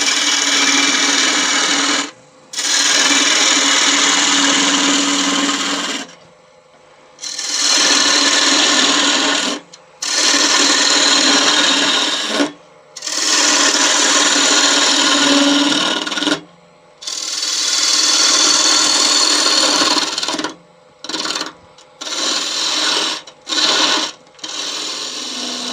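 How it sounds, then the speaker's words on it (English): A skew chisel takes peeling cuts on a spinning wood lathe while turning a Christmas snowman, a loud steady rasping shear in long passes of a few seconds each, broken by short pauses and a run of quick brief cuts at the end. "Then I'm just going to grab a skew and with a peeling cut,"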